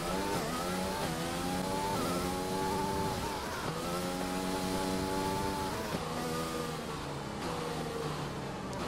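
A Formula 1 car engine in the video game F1 2020 on a training session in China, painted highlighter yellow with white and black. The engine screams upward through gear after gear, dropping sharply at each shift, loud and constant.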